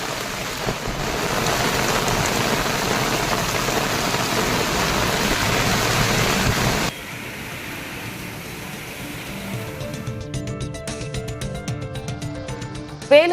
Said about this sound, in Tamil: மாலை திடீரென கருமேகங்கள் சூழ்ந்து கனமழை பெய்தது